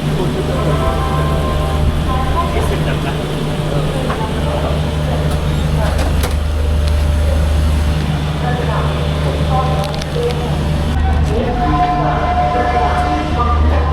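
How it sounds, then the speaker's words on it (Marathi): A passenger train pulling out of Ratlam station on the Mumbai to Ujjain route, with a loud steady low rumble of the carriage and track under constant wheel and body noise, recorded from inside the coach. "आता गाडी रतलामवरनं निघाली आहे."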